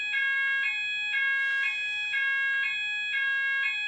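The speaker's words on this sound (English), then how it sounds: "That is my fire alarm being tested." A home fire alarm being tested sounds in loud, shrill electronic beeping pulses repeating steadily, close by and with no talk over it.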